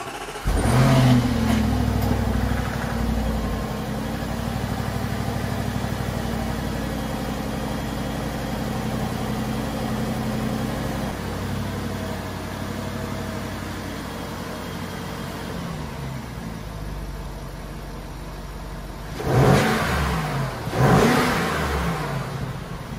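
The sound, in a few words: Audi 4.0T engine revving with APR carbon fiber intake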